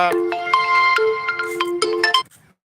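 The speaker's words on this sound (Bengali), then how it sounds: "একটা ফোন চলে এসেছিল" A phone rings with an incoming call, playing a short melodic ringtone that sounds close and clear and then cuts off abruptly.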